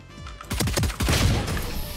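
Gunfire in Valorant, a rapid burst of several loud shots with a crashing, muffled edge as rounds punch through a wall, then a second louder flurry close by.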